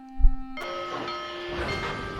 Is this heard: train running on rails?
yes